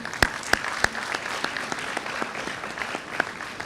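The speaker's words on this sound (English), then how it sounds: "A huge applause for the entire team" Steady audience applause at a university awards event fills the space, a dense wash of many hands with a few sharper, louder claps standing out near the start.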